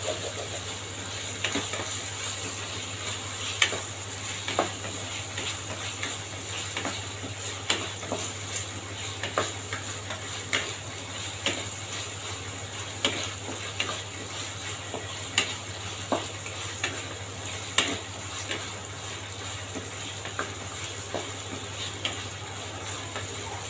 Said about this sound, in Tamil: நல்லா இந்த கிளறி எடுங்க தக்காளியும் நல்லா வதங்கணும்